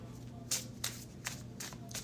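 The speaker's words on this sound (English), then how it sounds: "3 more shuffles." A deck of tarot and oracle cards being shuffled by hand in a series of crisp riffling bursts, about five quick shuffles spaced roughly half a second apart over a steady low room hum, with no talking.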